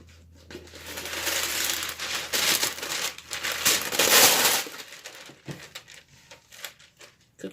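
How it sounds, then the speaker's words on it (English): Sheet of no-name parchment paper crinkling and crackling as it is pulled out and handled over a cookie sheet, a loud, dense rustle for several seconds that thins into scattered crinkles. "I have parchment paper"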